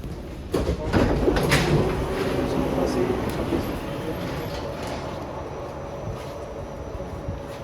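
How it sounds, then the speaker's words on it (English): Train pulling into its terminal station in Copenhagen, a rumbling rolling roar that builds and then eases, with clacks, a sharp clunk and the hiss of doors, and faint voices in the background. "This train terminates here."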